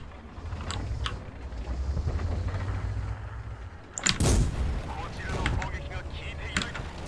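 A tank cannon booming once in World of Tanks, a sharp, loud blast with a rolling tail, standing out against a steady engine and wind-like rumble and a few lighter impacts.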